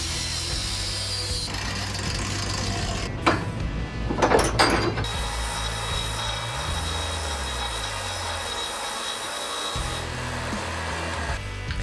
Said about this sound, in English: I'm now cutting the bottom of the pipe, or the top, whichever way you consider it, into quarters.